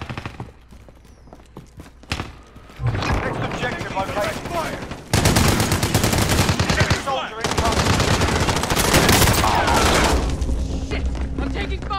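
Rapid automatic gunfire from the first-person shooter Call of Duty: Modern Warfare rattles in loud, sustained bursts with short pauses, and a player talks over the firefight.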